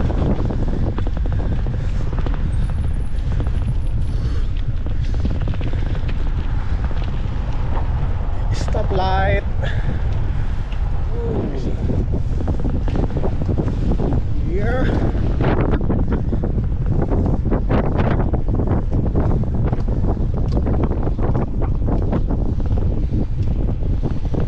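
Strong, continuous wind buffets the microphone in a heavy low roar while cycling in Canada, with occasional voices and bird-like whistles faintly underneath.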